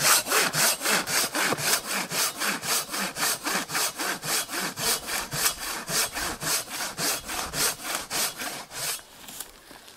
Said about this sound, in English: you can see how well that silky cuts through that. And again, that's hardwood, nice and dry